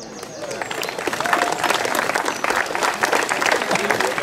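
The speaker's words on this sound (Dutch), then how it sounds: "Mooi applaus" Audience applause at a cycling prize ceremony after a closing time trial in Bladel, a dense, steady roar of clapping mixed with crowd voices that holds and swells slightly throughout, with an announcer talking over it.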